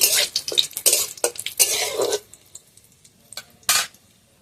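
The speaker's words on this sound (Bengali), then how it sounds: "তেলটা ভালোভাবে গরম হয়ে গেছে, তেলের মধ্যে দিয়ে দেবো শুকনো লঙ্কা, তেজপাতা।" Dried red chillies and bay leaves hit hot oil for tempering a banana flower dish, with clattering pan and spoon scrapes and short bursts of sizzle that thin to near quiet before a final clatter.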